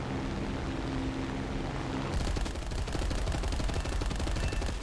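Machine-gun fire from an I-16 Type 5 fighter in the War Thunder flight game, loud continuous rapid bursts over engine drone, growing harsher and denser partway through.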